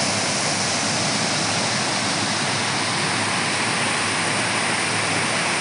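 Twin waterfall at Arum Sumber Asih in Sumberarum, a steady, loud, broadband roar of falling water with no break over the whole stretch, close by and without voices.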